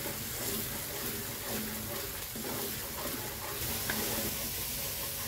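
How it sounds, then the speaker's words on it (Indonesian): Indonesian spice paste frying in cooking oil in a pan, a steady close sizzle and hiss running throughout with no talk. "Kita goreng sampai bumbunya matang, harum, dan tidak bau langu lagi."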